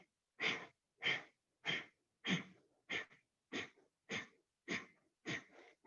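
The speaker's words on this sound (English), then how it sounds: "We'll do 10 Kapalabhati and then pause, and then we'll do 10 more." Kapalabhati breathing: nine forceful, evenly spaced exhales snorted sharply through the nose, each a short burst of breath noise about half a second apart, close and clear with no talking.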